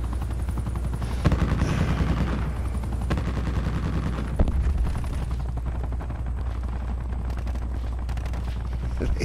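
Sustained machine gun fire in a shooting video game rattles on continuously at steady volume, with a few sharper shots standing out and a low rumble underneath, like a helicopter or explosions.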